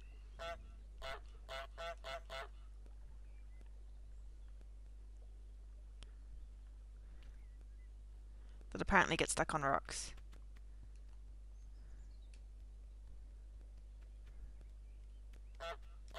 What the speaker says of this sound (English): It's honking quietly